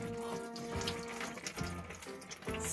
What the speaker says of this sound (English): we've got hot water in the bathroom tap as well